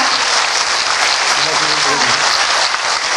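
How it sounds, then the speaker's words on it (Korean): Applause from the audience at a political candidate's policy press conference, loud, dense, continuous clapping filling the whole stretch, with no break. "여러분 큰 박수 부탁드립니다."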